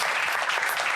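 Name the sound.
comedy show audience applause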